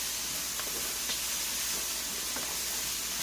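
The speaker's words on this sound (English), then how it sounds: "So now we have our mushrooms and our onions getting nice and sauteed." Mushrooms and onions sautéing in a smoking-hot skillet give a steady, quiet sizzle and hiss, with a few faint crackles along the way.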